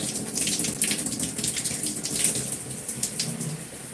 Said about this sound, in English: the water's very hot since I turned it on hot to fill up the mirror